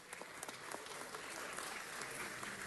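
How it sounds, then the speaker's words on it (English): Sustained round of applause from an audience honoring YMCA Youth and Government delegates in California, dense steady clapping filling the room with no pauses. "Let's give them a round of applause."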